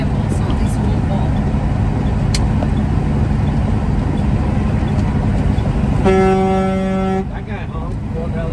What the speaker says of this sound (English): That guy honked.